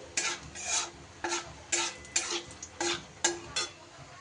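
Bay leaf, dry chillies and whole cumin temper in oil for a pumpkin dish, a spoon stirring in about eight regular scraping strokes over a soft, steady sizzle.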